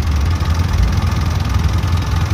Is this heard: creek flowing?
no